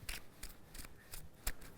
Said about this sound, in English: every card shuffle is unique, essentially